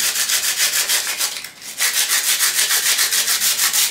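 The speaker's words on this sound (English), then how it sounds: "the next step for this project is sanding it down" Rhythmic back-and-forth rasping of sandpaper rubbing a surface, quick regular strokes with a brief pause midway.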